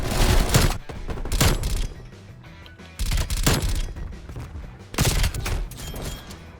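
CARV.2 rifle gunfire in a Call of Duty game, three loud bursts of rapid shots spaced about two seconds apart, each trailing off into a ringing tail.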